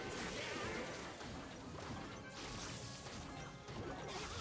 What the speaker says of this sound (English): We're going to poison right here. And then Tombstone.